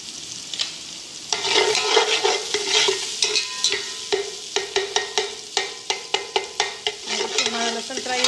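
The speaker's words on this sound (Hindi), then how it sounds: "थोड़ा सा हमारा लहसुन फ्राई होगा।" Garlic sizzles in a hot pan for Singaporean rice while a utensil stirs and scrapes it, bright frying hiss with a run of sharp, rhythmic clacks against the pan growing steadier toward the end; no voices.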